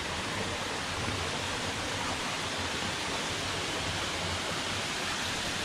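Water flowing steadily near Ngau Wu Reservoir on a Wu Kai Sha, Hong Kong hiking trail, a continuous broadband rushing like a stream or small waterfall, close and unbroken throughout.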